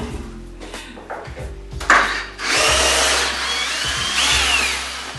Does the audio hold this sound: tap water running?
no